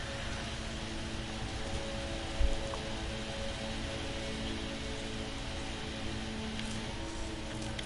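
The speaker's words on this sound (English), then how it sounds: "Crazy rains though." Steady heavy rain falls on a planet in the video game No Man's Sky, a dense, even hiss that continues throughout with a soft thump partway through.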